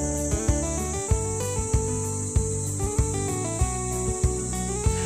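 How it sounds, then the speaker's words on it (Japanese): Summer cicadas in a visual novel game give a steady high-pitched drone that hangs over soft, plucked background music with gentle recurring beats. "束の間の夏を謳歌するセミの鳴き声が響いている。"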